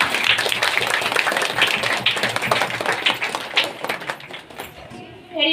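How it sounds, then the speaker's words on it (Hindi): A Christian congregation claps in praise during a worship gathering, with dense, rapid applause from many hands that stays loud, then thins and tapers off near the end. "मैं प्रभु का लाखों करोड़ों तालियों से स्वागत करती हूँ।"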